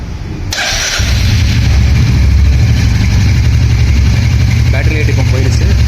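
A Royal Enfield Hunter motorcycle fires up with a sharp onset, then settles into a loud, steady idle that runs on close to the microphone, with a person talking over it.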